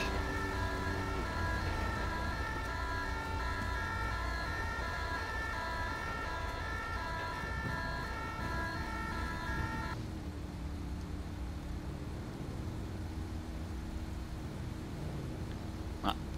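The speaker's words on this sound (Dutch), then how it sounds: "De ambulance staat alleen wel vast in de file daar." Ambulance siren wailing while stuck in a traffic jam in GTA 5 with the LSPDFR police mod, a steady cycling tone over continuous road and engine rumble, moderately distant and fairly faint.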